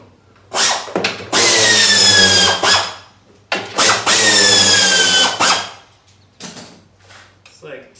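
A power drill backs out the half-inch caps on the pulley cover of a Badboy zero-turn mower: two long, loud whirring bursts with a rising whine, framed by shorter spins and brief pauses, close by.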